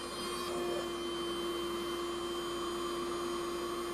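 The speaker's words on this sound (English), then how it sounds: "brush it into a little pile and vacuum it up" A vacuum cleaner picks up cleaning powder brushed into a small pile off an object, giving a steady, loud motor whine with a constant tonal hum and hiss that never changes over the whole stretch.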